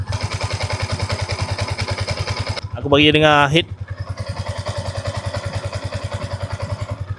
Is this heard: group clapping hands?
no